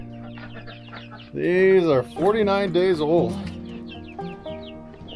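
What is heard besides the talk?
chickens and ducks in a chicken coop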